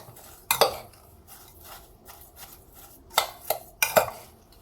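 Cucumber salad is tossed in a bowl with salt, sugar and vinegar, making a few loud clattering scrapes of a utensil against the dish, separated by quieter wet mixing sounds.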